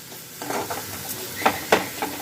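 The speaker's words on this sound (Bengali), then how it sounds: "সব এবার একসাথে ভালো করে মিশিয়ে নিচ্ছি" Spices being mixed in a pan for a flattened-rice khasta kachori filling give a few soft scraping stir strokes, with sharper spoon scrapes near the end over a faint low background.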